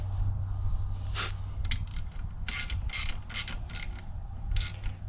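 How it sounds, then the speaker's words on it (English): A ratchet wrench tightens down the bolts on a Super S grass flap, giving a few short bursts of close metallic clicking over a steady low hum. "I'm gonna tighten it down."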